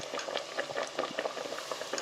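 Breaded pork cutlets deep-frying in hot oil for tonkatsu, a steady bubbling sizzle with scattered crackling pops, close and fairly quiet, no voices.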